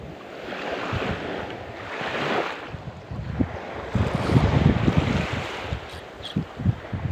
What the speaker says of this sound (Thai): ลมตึงๆเลยครับ ลมลมตึงๆ มีคลื่นด้วยครับ